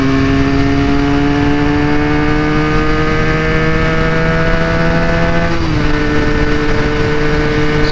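Benelli 300 motorcycle engine on a ride, a loud close steady drone with rising pitch under acceleration, then a brief dip and recovery as a gear changes near the end, alone without talk.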